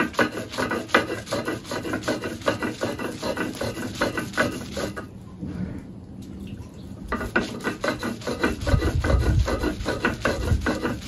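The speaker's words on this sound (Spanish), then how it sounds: "de esta forma artesanalmente empiezo a moler mi guajito para mi rico y delicioso guachmole" Guaje seeds are ground by hand on a stone for beef huaxmole, making a steady, rhythmic rasping rub close up that pauses briefly midway, then resumes with a heavier, rumbling stroke.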